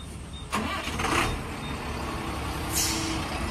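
A vehicle's engine drones steadily as it moves ahead at night in Rajasthan: a low, continuous rumble with a sharp burst near the start and a brief hissing swell later, no voices.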